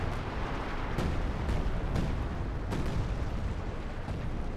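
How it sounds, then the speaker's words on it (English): Artillery fire in a Company of Heroes 2 match, OKW against UKF forces: repeated distant booms and crumping impacts over a steady roaring battle-noise bed, several sharp bursts spaced roughly a second apart. "Artillery firing down here now."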